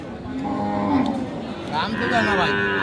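Close, loud mooing from a Sahiwal cow at a cattle market, two drawn-out calls in quick succession over a background of market bustle.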